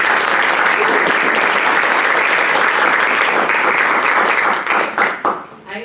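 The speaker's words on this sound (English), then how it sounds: "if we could all give them a round of applause" Audience at a panel discussion gives a sustained round of applause, dense steady clapping from a crowd that fades out over the last second.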